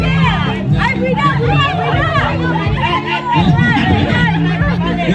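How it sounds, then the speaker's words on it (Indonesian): A dense crowd chatters nearby, with many overlapping voices, including children's, in a busy, continuous hubbub that briefly dips and then swells again. "Baru di kerumunan nih."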